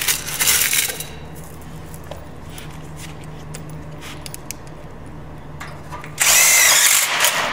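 Power drill driving self-tapping screws into a metal outdoor kitchen frame, with a loud whirring burst at the start and another near the end, separated by quieter handling and clanks.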